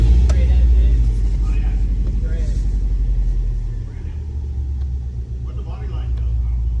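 A modified car running on a freshly installed base map tune, with a steady low engine rumble close by that holds throughout and dips slightly midway.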